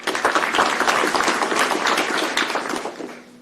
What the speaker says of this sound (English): thank you for everyone for your applause